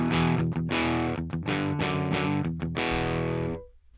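Electric guitar through a PolyChrome DSP McRocklin Suite plugin with compression, saturation and boost plays a run of distorted chords with short gaps, loud and close, then rings out and cuts to silence near the end.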